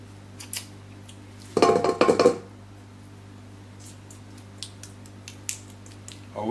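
Thick, chilled galette batter being worked in a bowl with a utensil, producing a short burst of clattering and scraping near the start, then occasional soft taps, close by over a steady hum.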